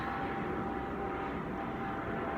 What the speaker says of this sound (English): it's a rescue helicopter